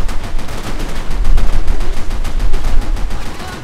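Rapid, dense enemy gunfire in the shooter game Max Payne 3, loud and sustained, with sharp cracks packed into continuous bursts over a deep rumbling low end.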